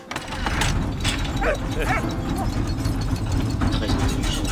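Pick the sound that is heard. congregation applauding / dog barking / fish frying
dog barking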